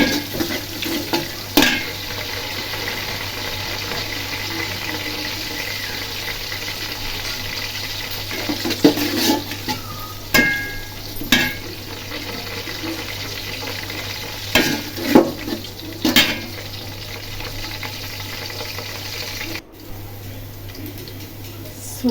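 Onion with bay leaf, garam masala, cardamom and cinnamon fries in a pan with a soft steady sizzle, broken by scraping stir strokes and clinks, with faint talk in the background.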